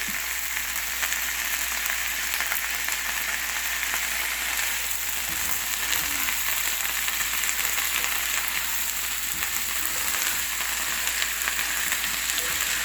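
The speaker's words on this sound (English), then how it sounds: "And then now I'm going to put in a bag of peppers." Homegrown peppers fry in a pan with a dense, constant sizzle that stays loud and even from start to finish, no voices over it.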